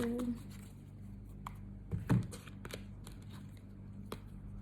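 Oracle cards shuffled by hand give a few soft, close snaps and flicks over a low background hum, with a brief louder burst near the middle.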